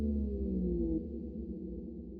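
Synth tone with a reverb tail and a downward pitch shift: a single sustained note gliding lower, then fading into a soft lingering wash, heard alone and fairly quiet.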